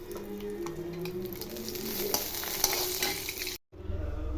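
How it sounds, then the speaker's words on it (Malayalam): Cashews and raisins roast in a pan with steady sizzling and frequent scraping stir strokes, close and fairly quiet, ending with a brief cut to silence and a low hum. "നമുക്ക് ആദ്യം ഈ നട്ട്സും കിസ്മിസും നമുക്ക് വറുത്തുകൊണ്ട് വരാം."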